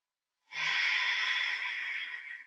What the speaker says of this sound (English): we're going to have 4 more breaths here